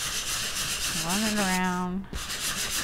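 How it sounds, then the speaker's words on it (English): Sanding block rubbed over embossed colored cardstock with a white core, a steady close scratchy rasp running throughout while a person speaks briefly over it. "I'm sanding off that top layer of colored paper"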